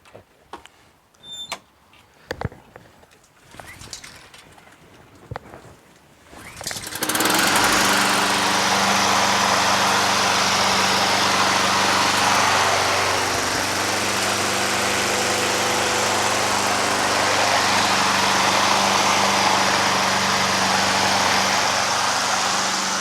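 Honda Harmony II HRT216 Quadra Cut push lawn mower, opening with clicks and rattling from starting attempts, then the engine catches and runs at a loud, steady drone close by for over fifteen seconds.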